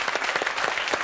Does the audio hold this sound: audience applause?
yes